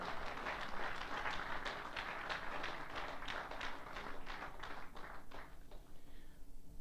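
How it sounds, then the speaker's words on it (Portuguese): A church congregation claps during a Sunday morning service, a fairly quiet, moderately distant patter of hands that thins into a few separate claps before fading out. "Dá-lhe um aplauso nesta manhã."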